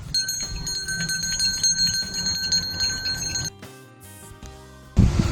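A small hand bell rings with bright, sustained tones for several seconds, fairly close, then stops and gives way to quieter background sounds and a brief rustle at the end.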